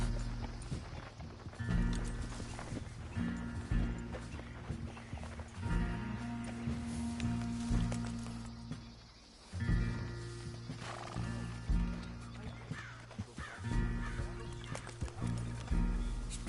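Horses galloping with clip-clop hooves and occasional neighs in the video game Red Dead Redemption 2, a steady rhythmic run under a game music bed with low rumbling, moderately loud throughout.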